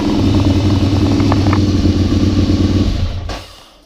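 A project motorcycle engine runs steadily with the clutch pulled in, a loud close mid-pitched idle with a slight pulsing rhythm that holds for about three seconds and then cuts out quickly.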